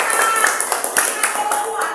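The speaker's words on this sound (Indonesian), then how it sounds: "Tepuk tangan dong." Church audience clapping at a program, a lively spread of hand claps with some voices mixed in, fairly loud and sustained throughout.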